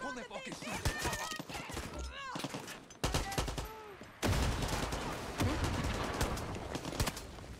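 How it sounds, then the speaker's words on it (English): Gunfire in a Far Cry 6 firefight, bursts of shots crackling amid other game sounds, with speech-like voices mixed in and a denser barrage of fire building toward the end. "Who's shooting?"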